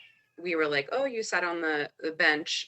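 A pet cat meows repeatedly in the background as a person speaks over it, the cries rising and falling through the talk.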